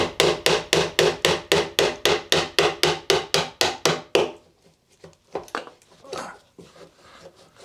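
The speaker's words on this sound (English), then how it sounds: "So I'm having to use a scraper and gradually go upwards and try and break the seal." A metal scraper strikes repeatedly at a sealed retainer on a Rover P4 body, about fifteen sharp, evenly spaced knocks in a quick steady rhythm, close and loud, followed by a few scattered scrapes and softer taps.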